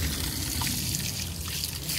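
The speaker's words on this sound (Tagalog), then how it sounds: "Nag-gripo dito." Tap water running from a garden faucet outdoors on a farm plot, a steady close trickling stream with broadband hiss continuing alone throughout.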